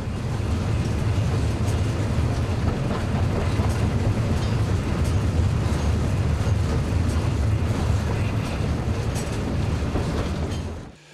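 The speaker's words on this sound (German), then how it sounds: "Der Zug erreicht den Haltepunkt Thomasmühle" A model train runs steadily along the track with a loud, continuous rumble and faint rhythmic clatter, fading out abruptly at the end.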